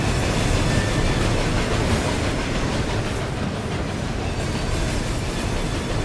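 A loud ghost train roars through the game Murdered: Soul Suspect, a dense, continuous rumble and clatter filling the whole stretch at steady volume with no talk.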